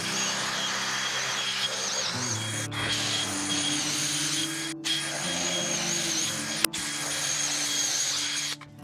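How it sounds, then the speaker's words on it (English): A power drill runs steadily with a sustained whirring hum, drilling bench dog holes in a thick 5-inch wooden workbench top, broken by a few sharp clicks, close by with no talking. "place a dog hole in the hole we just drilled, and drill the next one."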